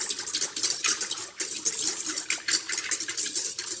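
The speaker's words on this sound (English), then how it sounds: "Whisk it around just to mix." A whisk stirs active dry yeast into water in a bowl, making quick, rhythmic metallic clinks and watery swishes against the bowl, close and continuous with no voices.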